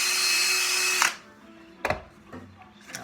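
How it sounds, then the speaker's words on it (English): A power drill whines steadily for about a second while boring out a 1/8 inch hole in wood, then winds down, followed by a couple of knocks and clatters of the piece being handled. "So we'll drill that out."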